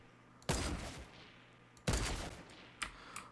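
Sniper rifle shots fired in a Fortnite sniper shootout match, three sharp cracks spaced unevenly over a few seconds, each followed by a short decaying tail over quiet game ambience.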